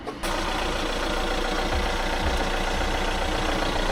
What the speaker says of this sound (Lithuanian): Čia tik variklis įdėtas Nissaną.